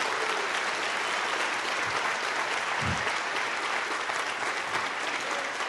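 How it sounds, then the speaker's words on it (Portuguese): A church congregation applauds during a sermon, the clapping dense and steady from start to finish, filling the room at a constant level with no voices over it. "Pode aplaudir Jesus"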